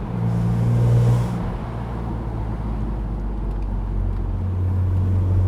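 BMW Z4 M Roadster engine running with a steady, loud low rumble, swelling briefly at the start and settling into an even drone with no talk over it.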